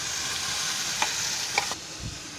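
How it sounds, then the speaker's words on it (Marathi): Ground masala goes into frying onions, a steady quiet sizzle with a couple of light taps from the pan, then a soft thump as the sound drops near the end. "आता त्याच्यामध्ये आहे ना हे वाटलेला मसाला आहे ना तो टाकते."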